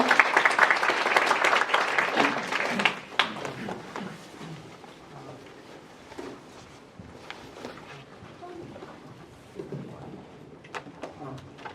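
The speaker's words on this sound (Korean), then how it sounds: "박수 좀 크게 부탁드릴게요" Audience at a game server development seminar clapping for a presenter, a brisk burst of applause that drops after about three seconds into lighter scattered claps and small shuffling noises.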